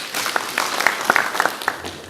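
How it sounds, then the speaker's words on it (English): Scattered clapping from a modest audience at a stakeholders forum, a handful of distinct claps standing out over a thinner background patter, fairly close and unaccompanied by speech. "So give him a clap for that."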